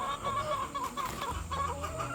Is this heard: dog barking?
no